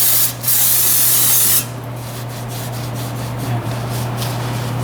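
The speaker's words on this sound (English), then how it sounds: "Just use a little bit of brake cleaner" Brake cleaner sprays from an aerosol can onto a Mercedes-Benz front wheel hub during a pad and rotor replacement. A loud, close hiss comes in two bursts, the second about a second long, followed by quieter rubbing.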